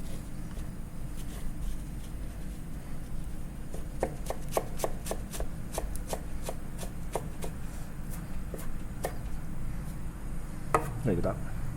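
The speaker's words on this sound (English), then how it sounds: "Just cut into small." A knife chopping alligator legs into small pieces on a cutting board, a steady series of sharp close knocks that speeds up midway, over a constant background hum.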